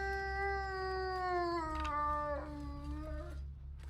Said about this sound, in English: We're going to run right by him because he was howling.